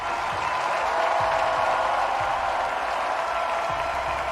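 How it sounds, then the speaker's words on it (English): A crowd cheering sound effect plays in a steady, moderately loud wash of applause and cheers that runs evenly from start to finish, with no speech on top. "I'm gonna throw in a little bit of cheering."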